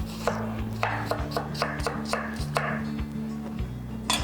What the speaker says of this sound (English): we're gonna need half of an onion, just roughly diced